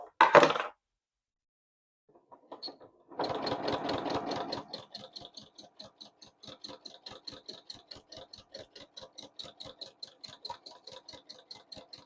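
A sewing machine runs in free motion quilting, a quick rapid rhythmic stitching burst after a brief clatter, then slower, evenly spaced stitches ticking along, close and fairly quiet.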